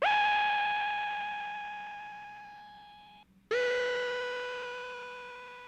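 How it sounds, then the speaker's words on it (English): A bright, sustained synthesizer tone with strong harmonics and no reverb, holding steady, cutting off abruptly, then a second lower note starting; dry, with no lingering tail. "This is what that synth sound sounds like without any reverb at all"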